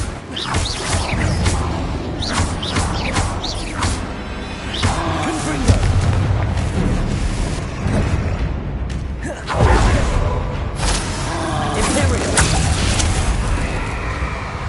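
Bombarda and Confringo spell explosions in Hogwarts Legacy, a dense barrage of booms, crashes and whooshes during combat, loud and continuous, with several heavier bursts standing out from the din.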